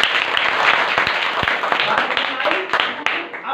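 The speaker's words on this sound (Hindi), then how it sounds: "बजाओ ताली" Students in a classroom clapping after a physics lesson, a brisk burst of many hands applauding together for a few seconds, close and lively with voices mixed in.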